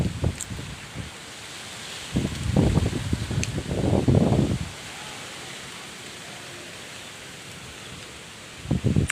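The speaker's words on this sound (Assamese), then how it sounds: "বতাহ মাৰি আছে, মই আছোঁ গাছৰ ওপৰত" Wind gusts through the leafy branches of a jamun tree, swelling into two loud rustling surges in the middle and another at the end, with quieter breezy hiss between.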